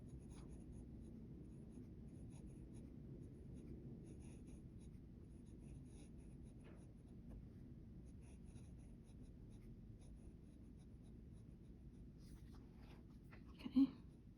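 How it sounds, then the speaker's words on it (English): A fountain pen scratches across paper while writing out the alphabet, a faint, close, continuous rustle of strokes that ends in a single louder tap. "I'm gonna do my alphabet for a writing sample."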